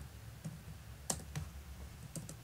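Keys on a computer keyboard tapped while writing Java code, a few sparse, quiet clicks spread over a faint steady background hum, with no talking.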